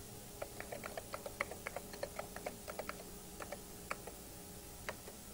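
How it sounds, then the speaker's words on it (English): Keys clatter on a computer keyboard as a user name is typed during early-1990s Macintosh System 7 setup: a quick, uneven run of light, close clicks over a faint steady hum, with no voices. "choose New User, type that user's name"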